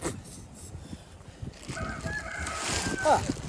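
Chickens cluck and squawk at close range, a short burst of excited bird calls rising near the end over faint background noise.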